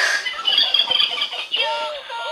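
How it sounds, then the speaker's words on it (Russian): A cartoonish turkey gobble from a video game: a short burst of bright, warbling squawks that ends on a falling tone, heard alone. "Индюк."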